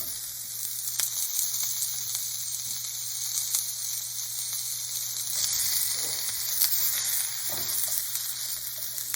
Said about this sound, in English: From there, I'll add the sausage into the mix and start cooking it.